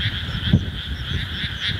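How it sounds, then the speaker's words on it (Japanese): A dense chorus of frogs croaking nonstop at night around 9 pm in rural Saitama, Japan, with a steady, continuous trill that sounds fairly close and has no voices over it. "止むことなくカエルが鳴いています。"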